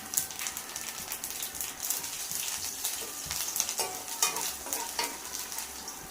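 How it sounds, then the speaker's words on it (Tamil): Mustard seeds, chana dal, curry leaves and ginger sauté in hot oil for wheat upma, a continuous bright crackling sizzle with dense scraping stirs throughout, moderately quiet and close, with no one talking. "கொஞ்சமாக கருவேப்பிலை, கூடவே கொஞ்சமாக இஞ்சி போட்டு நல்லா வதக்கி எடுத்துக்கலாம்."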